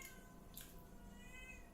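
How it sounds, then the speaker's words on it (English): A cat meows faintly in a quiet room, one drawn-out cry over a low background hum. "I don't know if you can hear the cat voice,"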